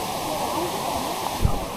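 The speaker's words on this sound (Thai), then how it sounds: "ผมไม่เคยเจอน้ำตกที่ใหญ่ขนาดนี้มาก่อนนะ" A huge waterfall in Laos thunders as a constant, dense roar of falling water, loud and unbroken, with a voice talking over it and a brief low thump near the end.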